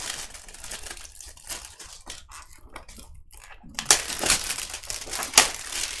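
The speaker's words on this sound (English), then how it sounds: "That's some good saran wrap. Shrink wrap, I guess." Shrink wrap is peeled off a sealed vintage multi-sport trading card box, giving a run of close crinkling and tearing noises that grow louder and sharper toward the end, with a few brief clicks.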